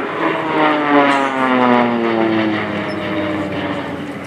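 A Swiss Air Force Pilatus PC-7 propeller aircraft pulls into an aerobatic half loop at an air show, its loud droning engine and propeller buzz sweeping steadily in pitch as it passes fairly near, with no voices.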